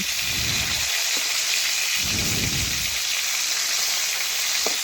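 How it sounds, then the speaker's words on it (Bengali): Katla fish fry in hot oil in a kitchen pan, a loud continuous sizzle with two low rumbling bursts as the pieces are flipped, and no talking. "মাছগুলো এক পাশ ভাজা হয়ে গেছে আমি এখন আরেক পাশ উল্টে নিচ্ছি"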